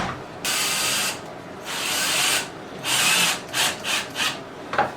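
A power drill drives screws into a Mainstays furniture board in several bursts, first two longer whirring runs, then short stop-start pulses, loud and close with no talking.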